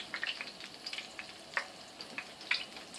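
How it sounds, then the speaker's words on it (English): Greek keftedes meatballs sizzling in a hot frying pan, a faint soft crackle with scattered small pops and spits, no talking. "Yeah, it's starting to sizzle."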